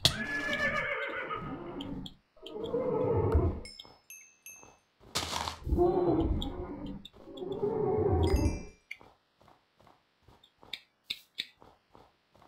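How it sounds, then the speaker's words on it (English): Undead horses in Minecraft let out several loud, close whinnies and neighs in succession, followed by sparse clicking and thudding noises. "More undead horses."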